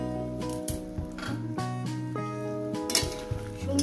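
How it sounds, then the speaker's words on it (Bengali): Tomato and green chili frying with spices in a pan for a Bengali katla fish curry, a steady soft sizzle with scattered clinks and scrapes of a utensil stirring close by. "এরপর দিয়ে দেবো টমেটো, কাঁচা লঙ্কা সব দিয়ে দিলাম। এবার এটাকে আমি সুন্দর করে কষিয়ে নেব।"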